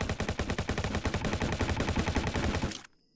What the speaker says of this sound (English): let me just shoot it a couple times